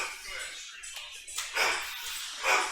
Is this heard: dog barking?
yes